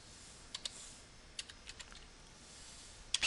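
Typing a folder name on a computer keyboard, a handful of light scattered key taps close to the microphone over quiet room hiss, ending in a quick cluster of louder clicks.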